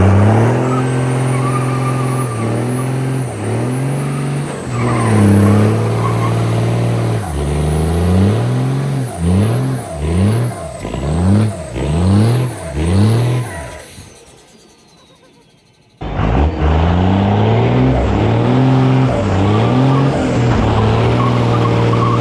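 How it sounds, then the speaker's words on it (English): A diesel stretch limousine with a Cummins engine does a burnout, revving hard in rising, falling pulses with tire squeal, drops away briefly, then roars back at full throttle, loud and close. "quick burnout and then we'll see how she goes"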